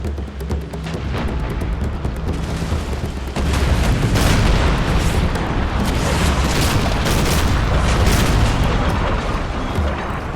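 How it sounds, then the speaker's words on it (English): Musket volleys crackle during a naval battle in Empire: Total War, a dense continuous barrage of overlapping shots and booms that grows louder and thicker after a few seconds. "They're opening fire with the muskets."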